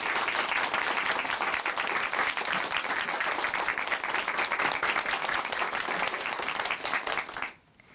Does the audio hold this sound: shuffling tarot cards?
no